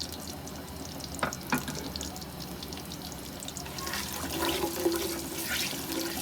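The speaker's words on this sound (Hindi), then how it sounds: "प्याज को फ्राई करते हैं।" Onions fry in a pan with a steady, close sizzle and crackle, interrupted by a couple of brief clinks, the hiss swelling slightly toward the end.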